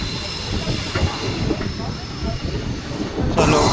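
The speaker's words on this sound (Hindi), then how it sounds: "चलो, अपनी ट्रेन डिपार्चर ले रही है खांडवा से" A superfast express train pulls out of Khandwa railway station in India, a steady rumbling roll with faint wheel clatter and hiss filling the platform, growing louder and brighter near the end.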